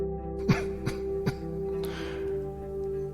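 A woman coughs in short weak bursts, about three spaced hacks followed by a breathy moan, close and alone in a quiet scene.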